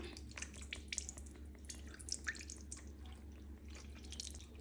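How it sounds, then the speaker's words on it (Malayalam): Tamarind water drips and splashes lightly into a pan close by, in faint irregular bursts over a low steady hum. "പുളിയൊക്കെ വെള്ളത്തിലിട്ട് വെച്ചിട്ടുണ്ടേ ഇനി അത് ഇതിലേക്ക് ഒഴിച്ചു കൊടുക്കാം"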